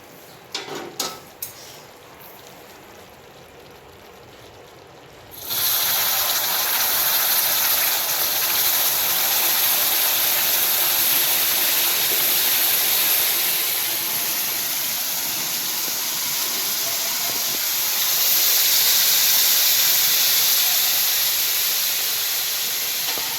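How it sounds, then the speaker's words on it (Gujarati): Jaggery water hits hot ghee and roasted millet flour in a pan, setting off a sudden loud, steady sizzling hiss after a few quiet seconds and a few clinks, continuing strongly and swelling again near the end. "આપણે નાખી દઈએ ગોળવાળું પાણી"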